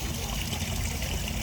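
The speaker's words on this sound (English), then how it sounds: "Here's some water running" Water runs steadily at a small waterfall feeding a little pond, a continuous close rushing trickle with no other sounds.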